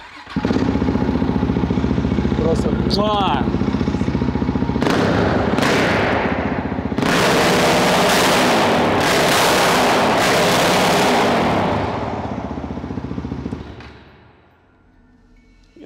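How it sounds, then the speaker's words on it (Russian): A motorcycle with a loud, throaty aftermarket exhaust revs hard in repeated sharp blasts, popping and crackling up close, then settles back to a low idle. "Вот как должен звучать мотоцикл с правильной трубой."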